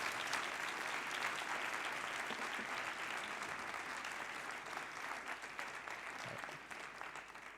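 An audience applauding a speaker at an anniversary conference of a philosophy faculty, steady sustained clapping from a sizable crowd that gradually tapers toward the end, heard without speech.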